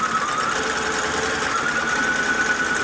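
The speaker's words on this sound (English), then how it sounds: "Let's go ahead and press again to sew our final stitch." A sewing machine stitches the last seam of a log cabin quilt block, running with a steady, loud, unbroken motor whir and needle chatter from start to finish, with no talking.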